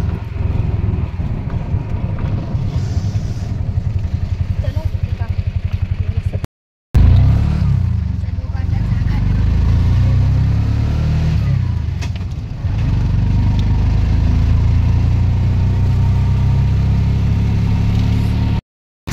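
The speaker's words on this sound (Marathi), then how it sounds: "चला रिक्षात बसलोय आणि निघालोय" An auto rickshaw pulls away, its small engine droning and revving close by with rattling clatter; the sound briefly drops out twice, then carries on steadily to the end.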